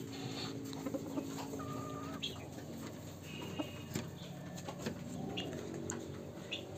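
Silkie chickens, white birds, two hens and a rooster, cluck on a farm. The soft, scattered clucks come in short bursts over a faint, busy background of other fowl, with no one speaking.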